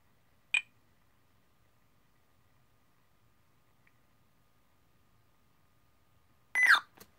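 A Windows 10 PC gives a short sharp beep, then after a long silence a louder rising warble sounds, the system tone triggered by holding the Shift key on the keyboard.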